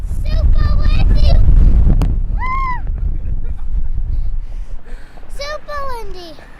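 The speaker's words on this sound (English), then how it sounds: "It's really windy." Extreme Colorado winds buffet the microphone with a heavy, low rumbling roar, while children's voices chatter over it in short bursts.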